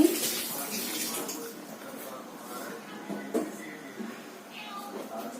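Fish being rinsed in water, with soft splashing and trickling under a person talking, plus a couple of brief louder clatters.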